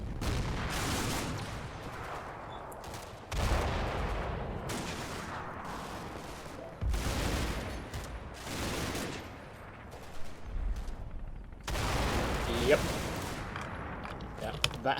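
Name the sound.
gunfire in Combat Mission video game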